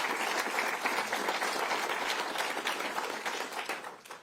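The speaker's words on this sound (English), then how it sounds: "Let's give a round of applause." Audience applause at a New York governor's remarks on AI investments at a university in Albany, a dense steady clapping that holds strongly and then begins to thin toward the end.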